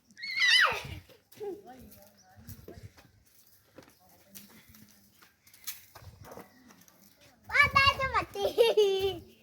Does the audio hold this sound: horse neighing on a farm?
yes